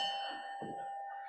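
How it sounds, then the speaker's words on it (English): A bell rung once at a club meeting, with a clear ringing tone that holds and slowly fades, fairly quiet and alone with no talk over it. "I'm going to ring the bell for him"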